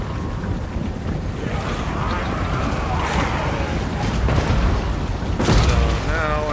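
Dwarf cannons fire repeatedly in a Total War: Warhammer battle between Dwarfs and Undead, with several booming shots rising out of a continuous rumbling battlefield din, the loudest blast coming near the end.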